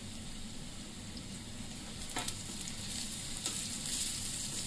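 Sliced onion and curry leaves fry in a pan, giving a steady, moderately quiet sizzle throughout. A couple of brief utensil scrapes stand out about midway, and no one speaks.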